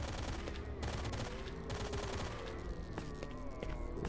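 Gunfire crackles in STALKER as the player fights zombies, with dense bursts of shots and automatic fire, faint and steady across the whole stretch.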